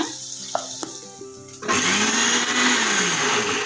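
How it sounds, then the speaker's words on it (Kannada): Kitchen mixer grinder blending a spicy village-style khara chutney, a loud steady whirring roar that kicks in after a few soft knocks and clicks and runs on without pause. "ಇದನ್ನು ಮಿಕ್ಸಿ ಮಾಡ್ಕೊತೀನಿ ನಾನು ಖಾರ"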